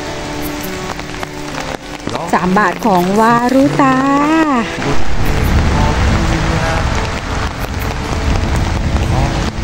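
Heavy rain pours down steadily while someone walks outdoors collecting bottles and cans, a loud continuous hiss throughout, with someone speaking over it near the start.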